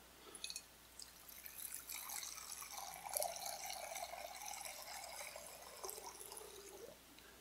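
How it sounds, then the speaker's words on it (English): Water poured out for a baptism during a Sunday worship service, a soft continuous trickle and splash that rises and falls for several seconds at moderate distance. "The water is poured."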